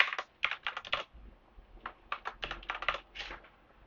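Typing on a computer keyboard in two quick bursts of rapid clicking keystrokes, close and crisp, with a short pause between them and no talking.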